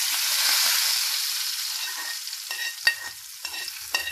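Hot oil sizzling and crackling loudly as spices are tempered for a tadka over moong dal, a steady hiss with a few sharper pops toward the end.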